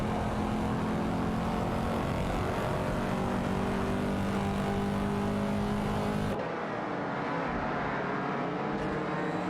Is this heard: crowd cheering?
no